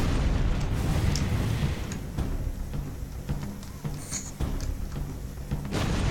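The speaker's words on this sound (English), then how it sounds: "And they can also take a beetle explosion to the face." Beetle minion blowing up in the video game Overlord: Raising Hell, a dense, rumbling game explosion with booming low bursts and crackle running continuously across the whole stretch, loud and close with no talk.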